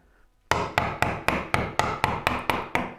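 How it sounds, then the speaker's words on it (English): A steady run of nine loud hammer strikes on wood during work on a Moxon vise, each a sharp close knock with a brief ringing tail, quickly repeated at an even pace with no talking. "Sorry for the loud noise."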